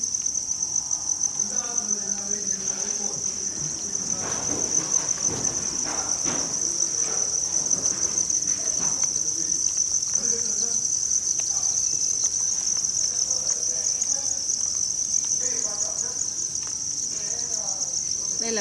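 Farmed crickets in a rearing setup chirp in a steady, continuous high trill that never lets up, loud and close, with faint background voices and small rustling sounds underneath.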